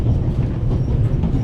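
Steady low rumble of a moving train in the game The Raven Remastered, a continuous close rolling drone without breaks.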